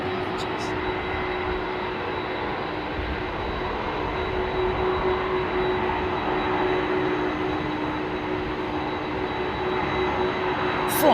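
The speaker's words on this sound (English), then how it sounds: "767 engines." Boeing 767 jet engines roar steadily at Heathrow airport, a continuous loud rumble with a high whining tone held throughout, no break in the noise.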